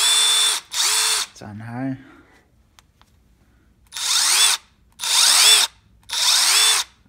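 Milwaukee M12 Fuel impact driver driving a lag screw: five loud bursts of rapid hammering impacts, each under a second, with a brief spoken remark between the second and third bursts.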